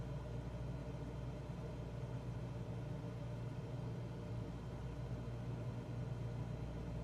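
Steady aircraft engine drone at 1700 RPM in Microsoft Flight Simulator 2024, a constant low rumbling hum with even tone and no speech over it.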